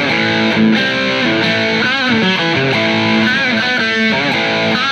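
A distorted electric guitar plays a chorus riff, a loud, gritty run of bent and sliding notes in a stop-start rhythm, played alone without voices.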